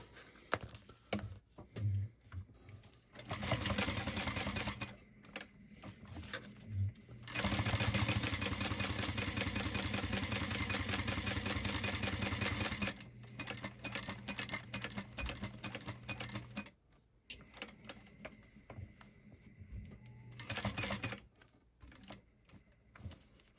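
A sewing machine stitches custom fabric in several bursts of rapid, close mechanical whirring, some long and some short, separated by quiet pauses with small handling clicks.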